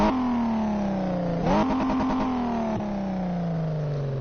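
A Mercedes car engine in Car Mechanic Simulator 2018 revs on a test track, with a steady rising drone, a sharp blip of throttle mid-way, then a long falling tone as it settles, loud and alone.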